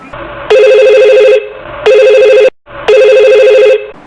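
A mobile phone rings for an incoming call, giving three loud, sustained electronic tone bursts separated by short gaps, close and clear with nothing else audible.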